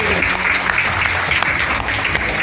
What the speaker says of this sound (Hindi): सर के लिए एक जबरदस्त ताली होना चाहिए